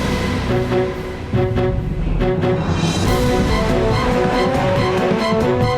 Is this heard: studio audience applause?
no